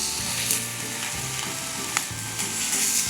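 Ginger fries in a pan at a campsite with a steady crackling sizzle, punctuated by a few sharp scraping stirs of the utensil against the pan.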